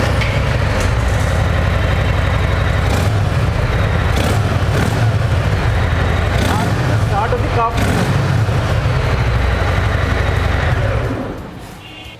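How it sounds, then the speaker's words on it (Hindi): A Harley-Davidson Fat Boy or Fat Bob with its stock exhaust idles close by, giving a loud, steady, lumpy low rumble that holds for several seconds before fading out at the end. "सो भाई अब हम एक बारी हार्लेस की भी आपको साउंड सुनाते हैं, फैट बॉय या फैट बॉब।"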